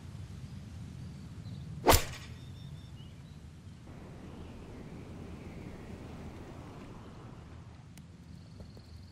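A single sharp club strike on a golf ball with an 8 iron at Southern Hills in EA Sports PGA Tour 2023, one crisp loud impact over soft steady wind and ambient outdoor noise.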